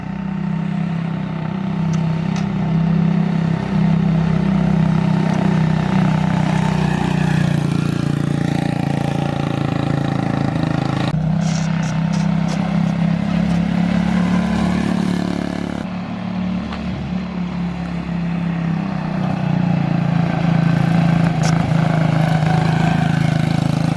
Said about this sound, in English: But I gotta take it for a test drive.